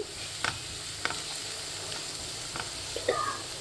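Chopped large onions softening in hot oil in a pan, a faint steady sizzle under a soft background hiss, broken by a few light clinks and stirring taps from a spoon, close by.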